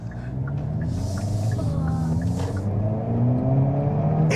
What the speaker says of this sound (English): Let's see if you can hear that exhaust and its crackles and pops.